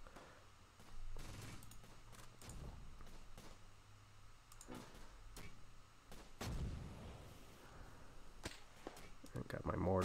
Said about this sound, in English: did we just take that guy out with the mortar?